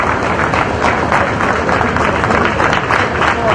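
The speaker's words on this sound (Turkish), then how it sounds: "naaşı son yolculuğuna uğurlanmak üzere alkışlar eşliğinde Üsküdar Şakir'in camiine götürüldü" Sustained crowd applause accompanies a funeral procession as a Turkish theatre and film actor's coffin is carried toward a mosque in Üsküdar, Istanbul; dense, steady clapping fills the whole stretch with voices mixed in.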